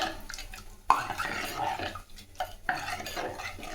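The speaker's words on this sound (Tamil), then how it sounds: "உப்பு போட்டு கரண்டி போட்டு நல்லா துவைக்கலாம்." A metal ladle scrapes and thumps against a pot in uneven strokes, mashing cooked dal for tomato sambar with wet, squelching sounds.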